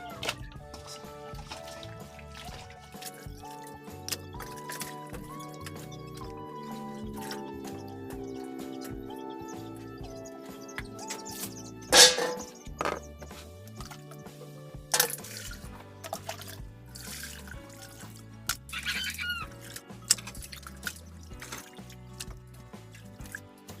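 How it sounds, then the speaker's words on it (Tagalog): Chicken for dinuguan is rinsed in a basin of water, with sloshing, dripping and light splashing that come and go. A few sharper clinks and knocks rise above the water sounds, and a tonal background hum carries underneath throughout. "magbabanlaw na tayo para malaga na natin"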